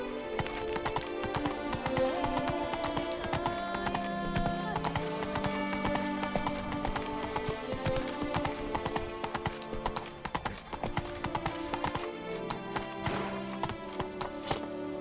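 Horse hooves gallop in The Witcher 3, a fast continuous clip-clop thudding under layered game music, close and steady, with an occasional whinny and brief voices.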